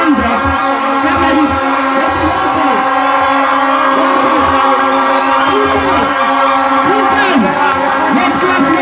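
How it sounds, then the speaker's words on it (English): A large outdoor crowd greets world champion Francis Ngannou in Buea, a continuous roar of cheering and whoops with clapping mixed in, loud and dense throughout, with voices shouting over it. "Let's clap for this."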